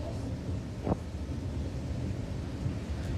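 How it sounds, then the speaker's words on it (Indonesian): A strong storm wind blows through Ujung Berung in Bandung, a steady, loud roar buffeting the microphone throughout, with one brief gust-like thump and no voices. "video amatir pemirsa milik warga yang merekam angin kencang yang melanda wilayah Ujung Berung, kota Bandung Selasa sore"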